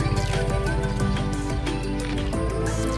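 Horses at the Satya Pangguyah Arini riding stable, with hoof clip-clops and horse sounds in a loud, busy mix that carries on without a break.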